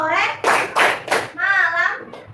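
A primary-school class doing a call-and-response clapping game, quick sharp claps in short rhythmic bursts close by, alternating with children and a teacher chanting.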